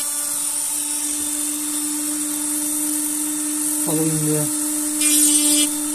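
A Dremel rotary tool whines at a steady pitch during wood carving, then its speed shifts abruptly partway through, with a person talking quietly over the motor.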